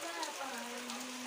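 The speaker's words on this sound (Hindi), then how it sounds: "मस्त वाली बारिश हो रही है" Rain falling outdoors in hilly Uttarakhand, a soft steady patter and hiss heard close by, with a faint tonal hum running beneath it.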